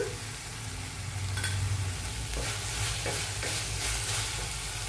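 Tomato puree stirred into ginger garlic paste frying in a pan, giving a steady sizzle with scraping stirring strokes, close and continuous, with no talk.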